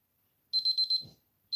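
A kitchen timer goes off in a home kitchen, sounding a rapid run of bright, loud electronic beeps, then a short pause and another burst, with a brief rustle between them.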